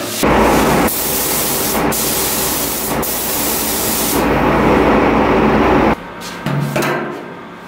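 Spray gun applying a fourth coat of paint to a Ford F100 truck, a loud continuous hiss in long bursts broken by brief pauses, then stopping near the end with a few short clicks.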